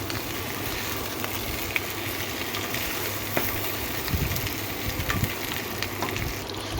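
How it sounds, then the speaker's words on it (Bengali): Potatoes, half-boiled and already softened, fry in oil in a pan as a steady, moderately loud sizzle with scattered crackles and small pops throughout, with no one talking. "সেটাকে একটু তেল দিয়ে ভাজা ভাজা করে নেবো আলুটাকে"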